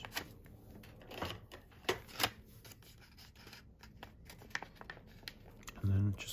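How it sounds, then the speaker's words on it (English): Scissors snipping and crinkling through paper envelopes in a series of quick cuts, with rustling handling sounds and a voice speaking intermittently. "And then we'll take our scissors."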